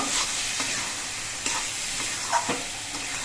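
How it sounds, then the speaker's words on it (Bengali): Ridge gourd and spice paste are stirred in a hot pan, a utensil scraping in a few uneven strokes over a steady, close sizzle. "এবার সব মশলা দিয়ে আর ঝিঙেগুলো দিয়ে ভালো করে নেড়ে চেড়ে মিশিয়ে দেব।"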